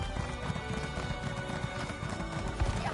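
Video game horse hooves clip-clopping in The Elder Scrolls Online, a quick steady galloping rhythm of hoofbeats with a brief whinny, set against game ambience and music.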